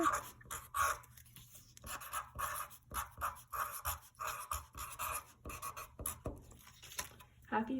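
A pen writes a short note on a handmade reindeer handprint holiday card, making scratchy strokes in close, quiet bursts alongside soft breathing.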